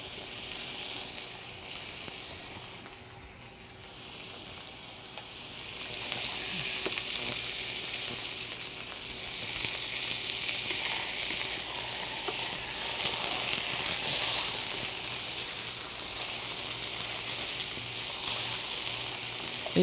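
A whole red snapper sizzles steadily in hot oil in a pan, a constant crackling hiss that swells a little louder midway, close and without talking.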